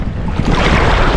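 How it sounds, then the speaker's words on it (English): Ocean waves washing onto a white sand beach strewn with shells in St. Maarten, a loud, close, steady rush of surf with wind buffeting the microphone. "Lots of waves and stuff."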